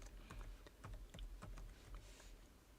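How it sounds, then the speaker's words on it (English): Computer keyboard typing, a steady stream of close, crisp key clicks in an uneven rhythm with no voices. "I'm typing up something I want to share"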